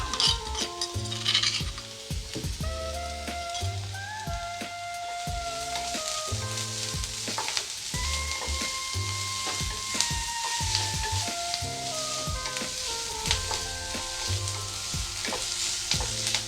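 Crushed garlic cloves and a piece of ginger sizzle steadily in hot oil in a pan, a continuous frying hiss with occasional stirring clinks, accompanied throughout by rhythmic background music.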